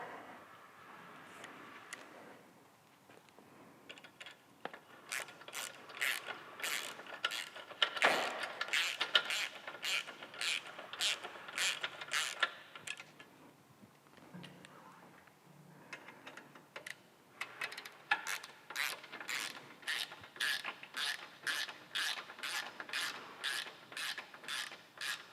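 A ratchet tightens bolts on a Harley Road King's front end during a 41mm to 49mm fork conversion, giving long runs of rapid, even clicking that stop and start again, quiet and close with no talking.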